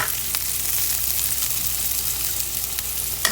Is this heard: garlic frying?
yes